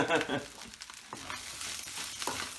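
Fried rice seasoned with MSG sizzles and crackles in a hot pan, with stirring scrapes rising over a steady frying hiss at close range.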